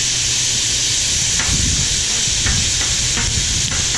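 Potatoes fry on a Camp Chef FTG600 griddle with a loud, continuous close-up sizzle and hiss, broken by faint irregular crackles.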